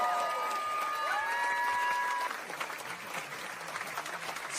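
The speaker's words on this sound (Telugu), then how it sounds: "థియేటర్ అంతా లెగిసి క్లాప్స్ కొడుతున్నారు" Theatre audience at a special Paris screening of Eega applauding steadily, a dense crowd of clapping with some cheering, a few tonal whistles or voices over it early on, holding loud and then easing slightly.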